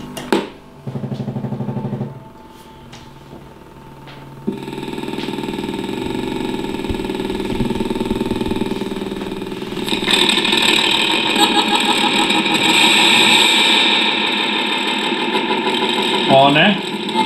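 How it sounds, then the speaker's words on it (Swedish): A small motor runs on a table and rattles against it, starting with a brief buzz, then settling into a steady drone that grows louder and harsher partway through, with a voice talking over it. "Den här kommer smälla lite grann när motorn har på sig."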